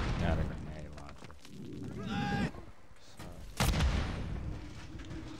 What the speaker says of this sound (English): Got a grenade launcher.